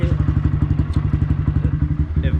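A Honda Grom motorcycle fitted with a Yoshimura exhaust idles and revs close by, its rapid, loud exhaust pulses thumping steadily, with a brief dip before the engine picks back up.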